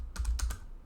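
Quick keystrokes on a computer keyboard while entering a web search, a short burst of about four or five close, crisp clicks with no voices.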